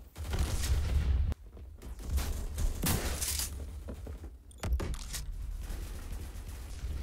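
Rapid bursts of gunfire in the Roblox first-person shooter Phantom Forces, loud clustered volleys with short gaps between them and no talking.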